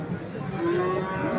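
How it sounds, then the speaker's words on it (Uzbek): Cow mooing at a cattle market, one drawn-out low call held for about a second, fairly close, against a background of market noise. "Juda ham chiroyli holatdagi sigir ekan"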